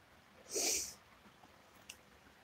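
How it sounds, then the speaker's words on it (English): A single short, breathy sniff or snort through the nose, close and soft, followed by quiet room hiss. "I'm sniffing, I forgot"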